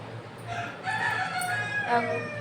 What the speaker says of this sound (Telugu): కోడి కూత వినాలంటే వినండి